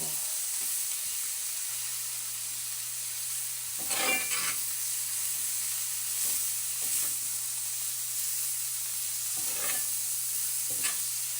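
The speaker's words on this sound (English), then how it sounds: "So I'm making my homemade fried cabbage." Homemade fried cabbage sizzles in a pan under a steady hiss of frying, with occasional scraping stirs breaking through now and then.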